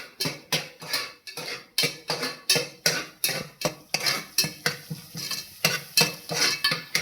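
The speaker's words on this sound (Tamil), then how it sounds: "இது நல்லா தக்காளி வதங்கணும்" Tomatoes sautéing in a pan, a spoon or spatula stirring and scraping in quick repeated strokes over a soft sizzle, close and fairly loud with no talk.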